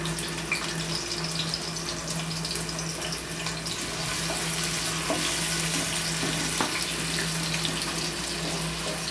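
Sliced onions, bay leaf and cinnamon pieces fry in hot oil for a cholay masala, a steady close sizzle with occasional stirring scrapes and a low hum underneath.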